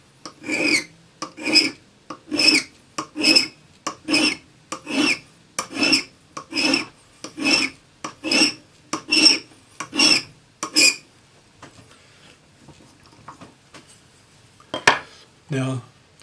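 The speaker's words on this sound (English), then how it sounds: "file from the other side until it touches, making sure that you're matching the facet on this side" Hand file rasping facets onto a silver ring: about fourteen steady, evenly spaced strokes, close and clear, then the filing stops and a few faint handling sounds follow.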